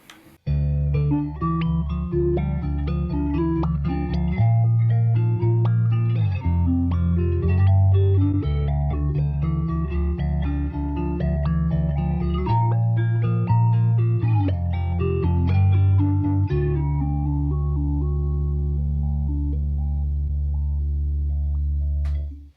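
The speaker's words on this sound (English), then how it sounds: "which is a flanger, but it's so much more than a flanger as well" Electric guitar through a flanger-style ambient effect rings out in sustained chords, a swirling, smeared wash that holds steady and loud, changing harmony every few seconds before a long final chord fades.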